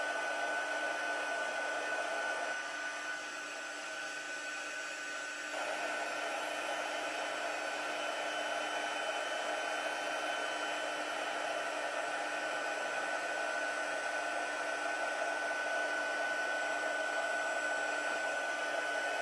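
Steady, loud whooshing hum of a heat tool warming a craft card, running without a break for the full length with a slight dip early on, and no talk.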